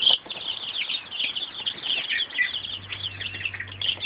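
Little ducklings chirp nonstop in quick, overlapping high peeps, close and fairly loud, with no voices.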